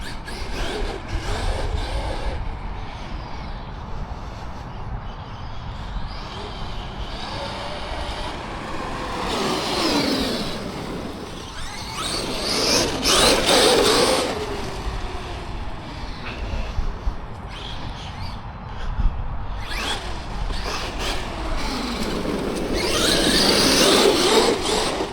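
Traxxas X-Maxx RC monster truck with upgraded M2C outdrives bashing outdoors, its electric motor surging and fading in repeated loud bursts over rough ground with wind noise throughout.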